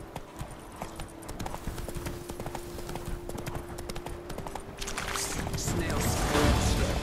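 Hooves of Roach, the horse in The Witcher 3, clip-clop steadily for several seconds over game ambience, with a rushing, rising background noise near the end and no talking.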